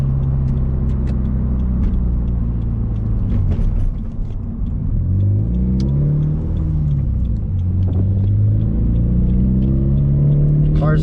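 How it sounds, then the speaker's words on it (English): A car engine runs steadily through the whole stretch, a low continuous rumble from inside the cabin with slight shifts in pitch as it is driven to pick up lunch; a voice talks over it in places. "Just listen to the car"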